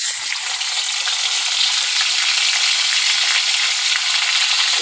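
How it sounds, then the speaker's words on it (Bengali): A fish head fries in hot oil in a pan, giving a steady, close, bright sizzle that runs unbroken for the whole stretch with no voices over it. "মাথাটা আমি ভালো করে ভেজে নেব।"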